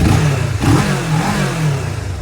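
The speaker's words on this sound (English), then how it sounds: "So I'll give her a little rev now that she's idled down some." A 2015 street motorcycle with 2,381 miles revs up from idle in a loud, close, continuous surge that rises and falls across about two seconds, heard on its own.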